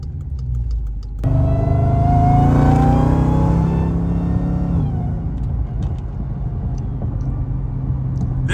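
A custom fabricated all-wheel-drive Chrysler 300 with new fuel pumps accelerates on the road, its engine note rising in a loud, close revving sweep before settling into a steady cruising drone with road noise.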